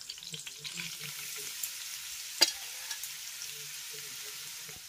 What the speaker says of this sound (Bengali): এবার আমি এর ভিতরে অ্যাড করবো কুচিয়ে নেওয়া পালং শাকটা